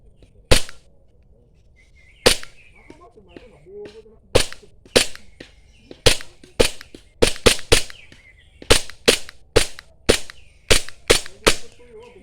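An airsoft pistol is test-fired at a game site: about a dozen and a half loud, sharp, close cracks in irregular bursts with short gaps between them, and no talking.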